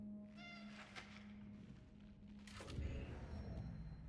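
A cat meows in Cronos: The New Dawn, a few soft, harmonic cries early on over a steady low game hum, followed by a louder thump and a burst of noise near the end.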